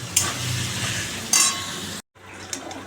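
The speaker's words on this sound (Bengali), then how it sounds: "দেখো ভাজাটা হয়ে গেল" Chili and black cumin sizzle and fry in a pan, with a steady hiss broken by a couple of brief spatula scrapes. The sound cuts out abruptly for a moment, then resumes more quietly.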